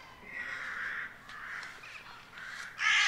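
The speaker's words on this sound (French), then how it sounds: "Et malgré les corbeaux" Crows caw outdoors along a riding path, a series of harsh, moderately distant calls in uneven bursts, with a louder, closer caw at the end.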